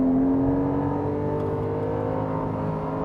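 A Porsche 718 GTS 4.0 with a naturally aspirated six-cylinder engine holds steady at the rev limiter on a racetrack, giving a loud, sustained high-pitched engine wail from inside the car with no talk.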